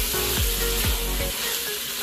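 Goat meat sizzles loudly in an Instant Pot while being stirred, a dense close frying crackle broken by a few scraping sweeps of the spoon.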